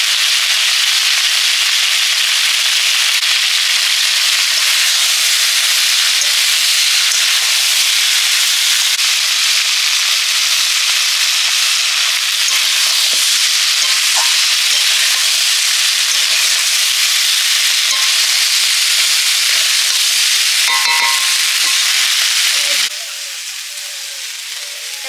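Ginger paste and radhuni paste fry in a pan with a loud, continuous sizzling hiss that holds steady for a long stretch, then softens slightly near the end, with faint clinks scattered underneath.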